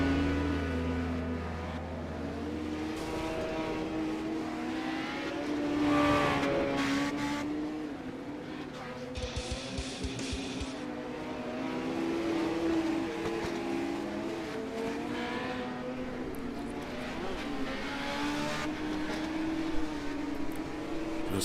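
Super Legends race cars lap a track during practice, a steady blended engine drone rising and falling as the pack circulates at middle distance, with no talk over it.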